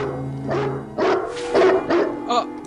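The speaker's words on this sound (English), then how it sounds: "the dog spots him" A dog barking in a 1984 Sherlock Holmes adaptation set at a country estate, several loud separate woofs in an uneven rhythm, close and clear with no speech over them.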